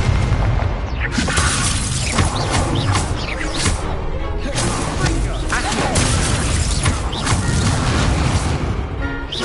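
The Incendio fire spell cast in a video game makes a loud, sustained roar of crashing bursts and heavy booms, dense and continuous with sharp impacts recurring throughout.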